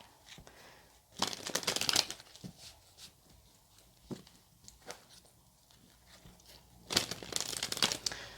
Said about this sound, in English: I'm just going to give the cards a shuffle